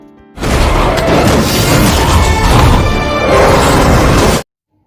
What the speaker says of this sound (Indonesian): alat itu pun kembali meledak